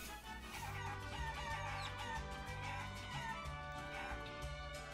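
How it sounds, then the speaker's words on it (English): Chickens cluck and crow in the video game Guacamelee, their repeated calls sitting over a steady game music track with a pulsing bass line, with no one talking. "These chickens are up here."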